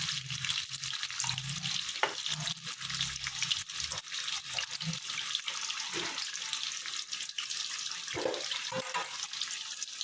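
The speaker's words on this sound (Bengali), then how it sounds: "আমি এই আলু ভাজে একটু নুন দিয়ে দিলাম, যাতে আলুর ভেতরে নুনটা ঢোকে।" Salted potatoes frying in a pan and stirred, a continuous sizzle with intermittent scraping and clatter of the spoon, close and moderately loud.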